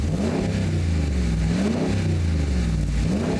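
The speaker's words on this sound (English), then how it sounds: "Rev it up a couple times. Let's hear it." A 6.6L LML Duramax diesel in a 2011 GMC Sierra Denali revving twice through its mufflers, a deep, loud rumbling drone rising and falling with each throttle blip, close by.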